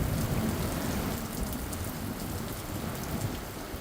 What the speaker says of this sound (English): we got a Texas-sized storm